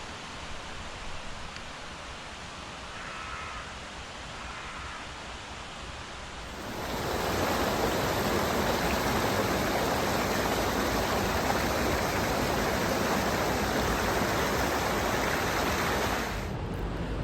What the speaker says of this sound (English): The length of the brook is dotted with these small wooden bridges